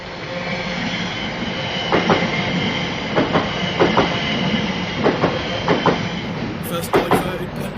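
A Class 730 electric passenger train on the Birmingham International to Rugeley Trent Valley service passes Bescot Stadium. A steady close rumble carries repeated rhythmic clicks of the wheels crossing rail joints.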